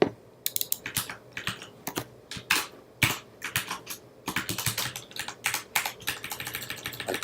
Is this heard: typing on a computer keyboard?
yes